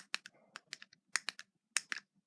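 The buttons on a cheap fake fidget cube click sharply about a dozen times in quick, uneven bursts, close and crisp against silence.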